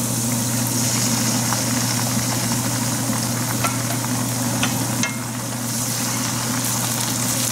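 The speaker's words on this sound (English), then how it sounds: "We'll fry till it turns a little golden, and then we'll put in the tomatoes to fry." Onions and tomatoes fry in a pan with a steady, continuous sizzle, close and fairly loud, holding an even level with a few faint clicks and no talking over it.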